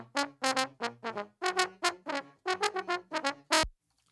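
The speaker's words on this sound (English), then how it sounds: "So here's the trombone." Trombone on its own in an isolated multitrack recording alongside trumpet and baritone sax, playing a short detached phrase of punchy, evenly spaced notes, close and clean, ending on one longer note.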